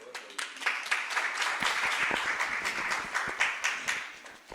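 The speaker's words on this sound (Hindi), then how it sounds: "दो चार लोगों की तालियों में थोड़ा जोर था।" Sparse clapping from just a few people at a religious seminar session, individual claps distinct and uneven, fairly close and moderate in level, with no one speaking.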